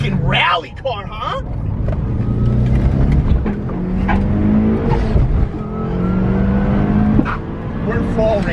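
A rally-prepped Evo engine revs hard through the gears toward redline in third, a rising, strained drone heard from inside the car, with people talking over it throughout.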